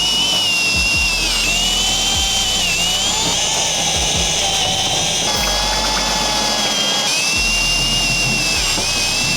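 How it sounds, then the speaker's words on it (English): A power drill bores through the trunk lid of a Subaru WRX to mount an Aeroflowdynamics V3 STI wing, a steady loud whine that rises and falls with several brief pauses and restarts, no talk. "And then after you drill through this one, you open the trunk and then drill the rest."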